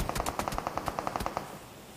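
A rapid automatic-weapon burst in a video game shooter, a dozen or so evenly spaced loud shots over about one and a half seconds, then a fading tail, with no talking.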